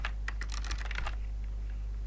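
Quick bursts of keystrokes on a computer keyboard, a rapid cluster of close clicks that stops after about a second, leaving a low hum.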